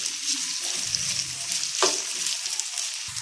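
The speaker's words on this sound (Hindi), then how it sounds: "अब हम इसमें आलू कटे हुए डाल देंगे और उनको फ्राई करेंगे" Cut potatoes fry in hot oil in a pan, giving a dense, steady sizzle with bubbling crackle and a brief stirring scrape partway through, close up and without talk.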